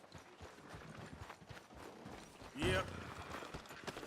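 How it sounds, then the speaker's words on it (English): Horse hooves clip-clop in Red Dead Redemption 2, a steady close rhythm of hoofbeats running under a short spoken reply from a character. "Are you gonna mount that new horse of yours or not?"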